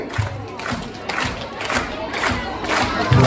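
A holiday-park audience at a Gary Barlow tribute show claps along in time, with rhythmic group clapping mixed into crowd cheers and shouts, moderately loud and continuous across the short stretch.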